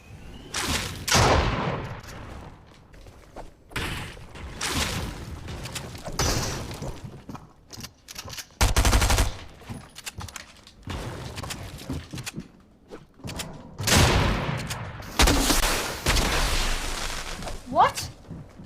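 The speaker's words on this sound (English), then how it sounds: "Is this an SMG? It is. Okay, we got 2 SMGs now." SMG gunfire in a video game, with several loud bursts of rapid shots separated by quieter gaps and footsteps, and a voice talking between the bursts.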